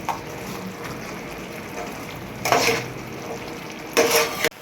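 A catla fish head goes into moong dal already fried down with cumin and chilli powder in a pan, giving a steady soft sizzle with two short louder bursts of spatula scraping or stirring near the end.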